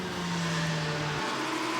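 An Audi race car in a 24-hour endurance race at Dubai roars past beneath the commentary position, a loud engine note whose pitch drops as it goes by.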